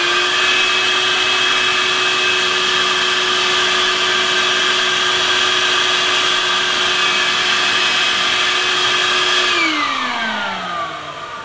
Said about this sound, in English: Hook up a vacuum and run it.